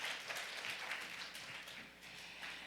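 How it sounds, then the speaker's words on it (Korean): Audience at a chemistry workshop applauding a presenter, a brief steady round of clapping from a seated group, moderately faint and room-filled, no speech. "격려의 박수 부탁드립니다."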